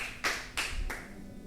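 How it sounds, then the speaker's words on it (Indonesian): A few distinct claps during a microteaching session, three sharp hand claps in a slow, spaced rhythm, fairly close, followed by a quiet room. "Beri tepuk tangan untuk kalian semua."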